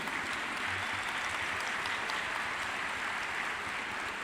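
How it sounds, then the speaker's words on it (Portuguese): A Baptist convention congregation in a church applauds with dense, even clapping that holds steady throughout, heard alone and from some distance. "Pode aplaudir, meus irmãos."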